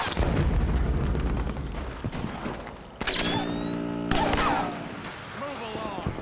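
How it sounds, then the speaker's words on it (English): Rapid suppressing gunfire in the video game Metal Gear Solid 4: Guns of the Patriots, with dense bursts of shots and booming impacts running throughout, loud and close, under a game voice. "Suppressing fire!"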